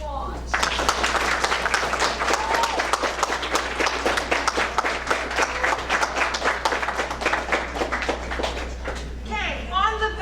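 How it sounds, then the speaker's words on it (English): Students at a junior high spring band concert applaud their families, dense rapid clapping that continues for about nine seconds before a voice begins talking near the end. "Students, give your family a round of applause."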